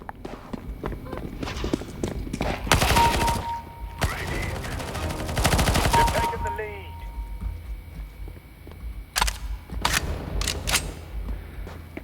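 Weapon fire in a video game comes in loud, dense bursts and rapid volleys, separated by quieter gaps, with voices talking over parts of it.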